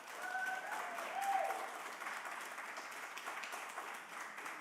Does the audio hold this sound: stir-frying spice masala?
no